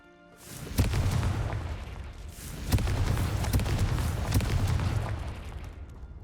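Two booming blasts from the Confringo explosion spell in Hogwarts Legacy, each a sharp crack swelling into a rumbling roar with crackling debris, loud and close, no talking.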